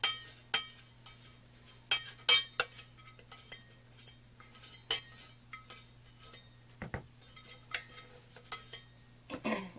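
A utensil scrapes and clinks against the inside of a container of lye solution during cold process soap making, with irregular light taps and scrapes over a low steady hum.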